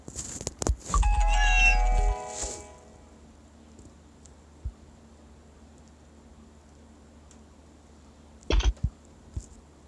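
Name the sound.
cat meowing in video game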